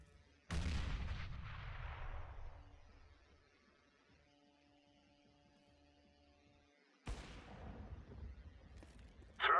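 Grenade blast in the CS:GO video game: a sudden loud boom that rumbles and fades over about two seconds, a quiet hum afterward, then another sharp explosive burst near the end.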